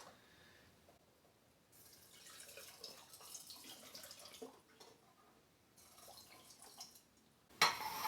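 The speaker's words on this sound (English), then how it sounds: "We're going to pour it into these jars here." Homemade mustard mixture poured into jars at home, a soft, wet trickling and dripping that runs in uneven spurts for several seconds, faint and close, with a brief louder knock near the end.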